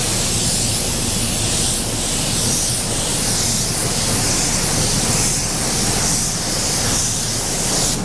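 Spray paint fanned onto a car bumper, a loud continuous close hiss that runs steadily throughout with slight swells and no breaks or talking.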